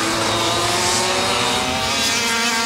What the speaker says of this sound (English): The new Tony Kart EVR.